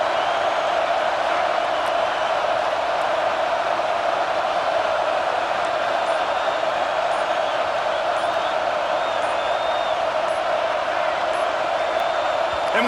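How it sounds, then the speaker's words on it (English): Stadium crowd roaring in EA Sports College Football 26, a dense, even wash of cheering noise that holds steady and loud from start to finish without letting up. "The roar of the crowd trying to fuel this defense to keep them pinned in their own end."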